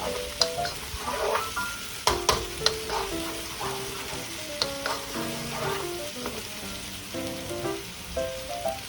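Lima beans frying and hissing in a pan, stirred with scraping, clattering strokes and a few sharp knocks, a steady close sizzle throughout.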